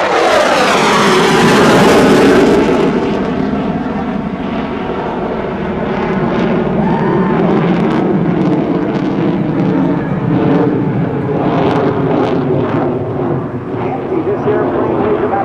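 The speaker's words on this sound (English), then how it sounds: "Here comes the Hornet's double Immelmann." An F/A-18C Hornet jet roars through a double Immelmann at an airshow, a loud continuous engine blast with shifting pitch sweeping overhead, while an announcer talks over it.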